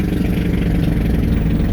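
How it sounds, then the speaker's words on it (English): A vehicle engine with a four-stroke motorcycle-like character runs at a steady idle, a dense, continuous low rumble that stays close and loud throughout with no breaks. "that sounds like it's got a 4-stroke motorcycle engine"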